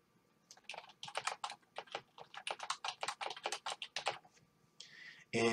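Rapid keystrokes on a computer keyboard, close and clear, rattling in uneven bursts as text is entered, ending with a sharper louder clatter.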